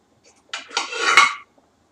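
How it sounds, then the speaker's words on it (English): Peeled tannia is rubbed across a small hand grater for Trinidad accra, one close, rasping scrape lasting about a second in an otherwise quiet room. "I'm going to grate them now"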